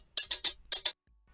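Shaker in an Afro remix of a pop song, heard alone as five short, bright rattling strokes in a quick uneven rhythm, two groups with a brief gap, close and moderately loud.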